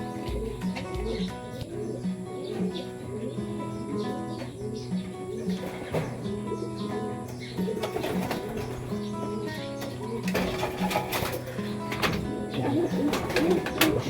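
Racing pigeons cooing in a loft, soft repeated low coos and occasional chirps over a steady background, with wing flutters and a voice talking intermittently.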